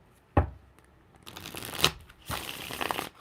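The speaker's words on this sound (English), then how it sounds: "These bigger cards take a bit more to shuffle them up" Large tarot cards are shuffled by hand in quick bursts: a sharp tap, then riffling, and then a longer papery flutter near the end, with no talking.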